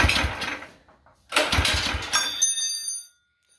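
A Predator 212 engine on a bike, freshly rejetted, cranks and fires in two short loud bursts of raw mid-pitched engine roar that cut off abruptly, close to the listener.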